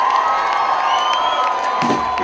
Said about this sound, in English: Give her a big Rockabilly Rave round of applause for Miss Janis Martin.